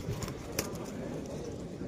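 Pigeons coo at a village market in Beldanga, a low soft cooing close by amid general crowd murmur and bustle, fairly faint.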